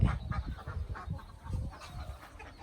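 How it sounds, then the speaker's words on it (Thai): Egg-laying ducks quack repeatedly in a rough, uneven chorus, fairly close and moderately loud, with no talking. "นี่คือเป็ดไข่"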